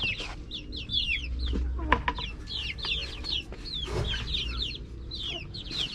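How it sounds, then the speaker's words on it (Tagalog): Chickens cluck steadily amid chirping birds, a flock nearby with a few sharper calls standing out. "lumilipad na talaga yung mga manok ko"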